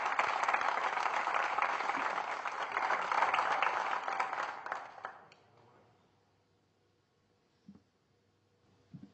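Audience applause welcoming poet Mumtaz Naseem at an Independence Day poetry gathering, a sustained wash of clapping for about five seconds that fades out, followed by near silence with a couple of faint brief knocks.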